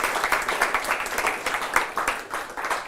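An audience claps at the close of a coding talk, a moderate patter of many hands with uneven bursts, fairly quiet and a little distant.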